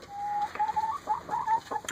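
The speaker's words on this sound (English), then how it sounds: "that chicken back there, that gray one, is a barred rock chicken" Backyard chickens, including a gray barred rock hen, give short whistly clucks and murmurs in a loose irregular series, fairly close and clear over a quiet background.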